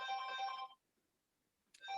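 A telephone rings in two loud electronic bursts, the first lasting under a second, then a stretch of near silence before the ringing starts again; no one speaks.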